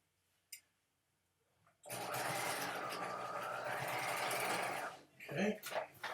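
A sewing machine stitches a neckline bias facing, running steadily and loudly for about three seconds after a quiet start, then stops as a brief voice follows.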